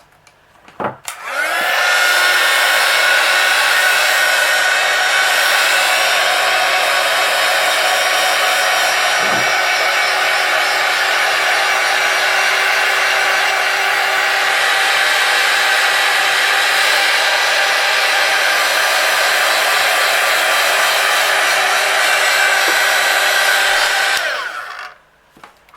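Hair dryer blowing on freshly inked colouring paper, a loud steady whine that switches on, holds unbroken for over twenty seconds close to the mic, then cuts off.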